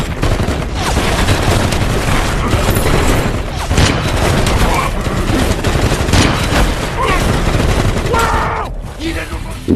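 Gunfire in a war film involving a sniper and troops firing at a large tree for cover, dense rapid bursts and booms, loud and continuous, with voices heard among the shooting.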